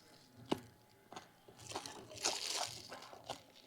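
Biting and chewing crunchy shredded papaya salad, several close crisp crunches spaced irregularly, fairly quiet with no talk.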